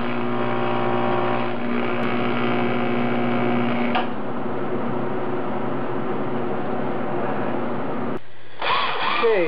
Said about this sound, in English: Just drilling a hole for the tab that will mount it to the intercooler piping.